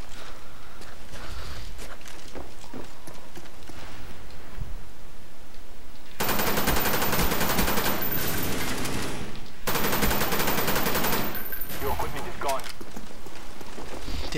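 Rapid automatic gunfire from a weapon in the video game Black Ops, dense bursts of shots over roughly eight seconds following a quieter stretch with soft game noises and a voice talking.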